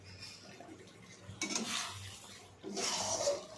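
A spoon stirring okra raita in a pan, with soft scraping and clinking of utensil against metal in a few short bursts, close and fairly quiet, with no one speaking.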